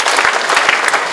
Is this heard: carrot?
no